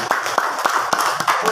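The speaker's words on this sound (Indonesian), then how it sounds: "Tepuk tangan." An audience at a talk show claps in quick, uneven bursts that stay fairly loud throughout, mixed with background chatter.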